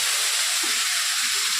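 Ingredients for chicken kurma sizzling in hot oil, a steady, loud, unbroken hiss with no talk.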